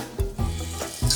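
Garlic and onion sautéing in olive oil at a beach campsite, with close bursts of sizzling and stirring scrapes in short, uneven pulses.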